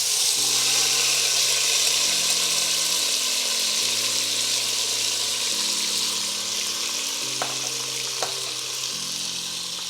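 Tomatoes hitting very hot oil in a pan for egg drop soup, a loud steady broadband sizzle that carries on for the full stretch, with a couple of faint clicks near the end and no talking.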